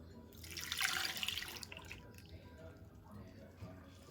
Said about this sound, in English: So now we're going to pour in 1 cup of buttermilk, and this is my homemade buttermilk.